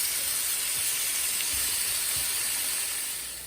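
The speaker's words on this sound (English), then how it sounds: "I'm gonna put a lid on it too, just to kind of get some more steam going for the vegetables" Vegetables steam in a covered pan, giving a continuous loud hiss with faint low bubbling underneath, steady throughout before easing slightly at the end.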